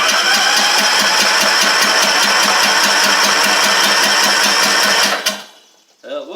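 A Troy Bilt TB42 riding mower's Powermore 541cc engine, needing a head gasket and carb work, cranks steadily with a fast, loud, rhythmic starter churn for about five seconds, then cuts off into near silence before a faint mechanical whine.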